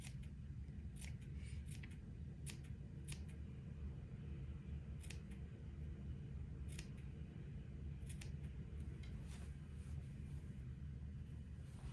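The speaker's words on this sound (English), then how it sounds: "I'm going to use my embroidery scissors, and about every 3/8 of an inch or 1/2 inch, I'm going to cut a little notch up to my sewing line" Embroidery scissors snip notches into fabric for a daygown: a series of small, crisp clicks at irregular intervals, close and quiet over a steady low room hum.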